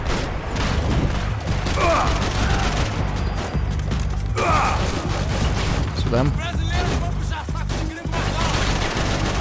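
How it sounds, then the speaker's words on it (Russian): Dense gunfire from Max Payne 3 in a Brazilian favela firefight, continuous bursts and booming shots filling the scene, with a voice briefly talking over the shooting. "Нормально, отличная стрельба, Макс."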